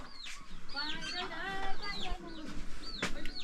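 Chickens and roosters cluck and squawk in a Nepali village, several birds calling close by in overlapping bursts while people talk faintly in the background.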